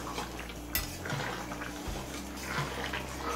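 A spoon scrapes and clinks around a pan as sugar is stirred into a fish-head mixed vegetable curry, giving close, continuous metallic scraping with a few sharper knocks.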